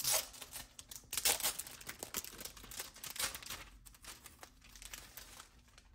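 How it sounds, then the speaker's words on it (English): Plastic photo card sleeves for a binder are crinkled and handled up close, a continuous busy rustle of crackling and crumpling with sharp tearing-like bursts that rises and falls for several seconds and has no speech. "we'll get our photo card pages out"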